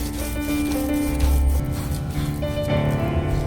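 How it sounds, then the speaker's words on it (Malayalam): Masala being ground by hand on a traditional grinding stone for a pearl spot fish dish, a close, steady scraping and rubbing with uneven strokes and no voices. "നമ്മുടെ കല്ലിൽ അരച്ച മസാല കണ്ടല്ലോ."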